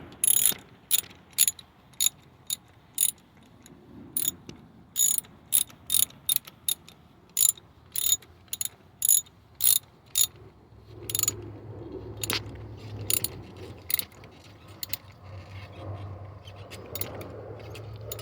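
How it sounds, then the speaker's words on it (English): Ratchet wrench tightening the fitting on a rear brake hose of a 2001 Chevy Tahoe, a close run of sharp clicking bursts in short quick strokes with brief pauses, and some faint shop noise underneath. "And then you can go ahead and ratchet that on down."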